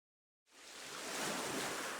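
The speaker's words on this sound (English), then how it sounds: "you can hear the sound of the waves" Ocean waves from the video game Voice of Cards swell in after a moment of silence, a broad hissing surf that builds and holds steady, soft and unaccompanied by voices.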